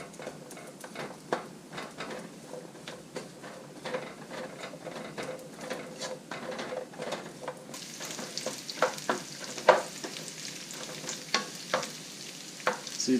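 Sliced Chinese sausage fries in oil as its fat renders out, a steady crackling sizzle broken by scraping stirs and sharper spattering pops that grow busier partway through.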